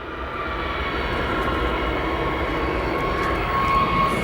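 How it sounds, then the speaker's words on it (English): A Boeing 737 jet engine at O'Hare airport rumbles steadily as the plane taxis, a loud continuous roar with a broad whine, heard alone with no talk. "737 making some noise as it's just gotten taxi clearance"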